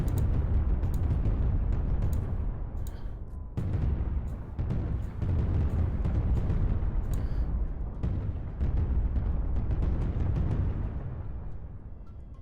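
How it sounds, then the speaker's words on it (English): Fifteen Tsar Bomba bombs go off in the Worldbox video game as a string of loud, deep booming blasts that overlap and rumble continuously, with sharp cracks scattered through them and no voices. "All right, here it is, the SAR bombas. 15 of them on the biggest circle."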